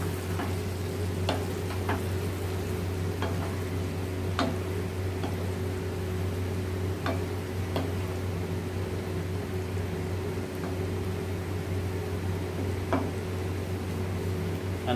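A spoon stirs kadhai paneer gravy in a kadhai with the flame switched off, giving faint scattered scrapes and clicks over a steady low background hum.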